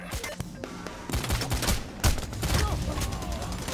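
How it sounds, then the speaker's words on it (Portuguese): Bursts of rapid gunfire and single shots in the heist shooter Payday: The Heist, loud and dense, with overlapping volleys coming from several directions and crackling impacts throughout. "Ó, tô levando tiro aqui, mano."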